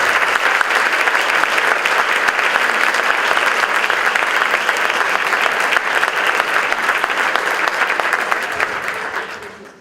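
A large audience at the closing ceremony of a psychology congress in Mar del Plata gives strong, dense applause, steady and loud for nearly ten seconds before fading out.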